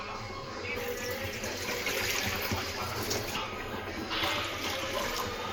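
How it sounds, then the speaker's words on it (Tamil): Three cups of water poured into a pot to be boiled for rice-flour kozhukattai, a steady, continuous splashing stream with a faint voice in the background. "இப்போ 3 கப்பு தண்ணி ஊற்றிட்டேன்."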